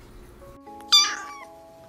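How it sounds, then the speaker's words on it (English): A community cat in an urban setting gives a single short, close meow that rises and falls, heard alone over a faint steady background hum. "These are community cats."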